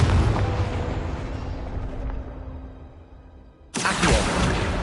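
A Confringo spell detonates in Hogwarts Legacy, a loud booming blast that decays into a rumbling tail, then a second sharp explosive burst hits near the end.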